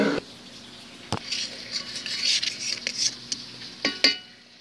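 Spatula scraping around a metal mixing bowl of ube frosting with the mixer stopped, a few sharp clacks against the rim amid soft scraping strokes, close and moderately loud.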